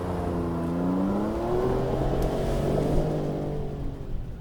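A 2025 Nissan Frontier PRO-4X truck engine accelerating as heard from inside the cab, with a loud, steady rising drone whose pitch climbs through the gears and no talking.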